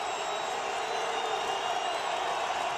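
Crowd at a 2009 FCS playoff football game in Montana's stadium against Stephen F. Austin, a dense, constant roar of cheering spectators that stays at an even level throughout.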